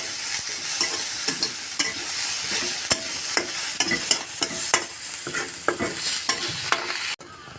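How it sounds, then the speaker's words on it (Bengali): Dried loitta fish fries with chopped onion in a pan, a continuous loud sizzle broken by frequent sharp scrapes and clacks of a stirring utensil, ending abruptly. "তো পেঁয়াজটা দিয়েও আমরা ভেজে নিচ্ছি।"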